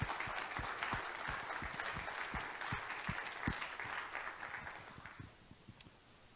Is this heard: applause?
yes